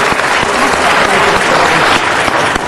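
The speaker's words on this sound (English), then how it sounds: "So let's just give them a great round of applause." Steady, dense applause from a council meeting audience honoring supporters who sold candy, loud and continuous with no pauses and no one talking.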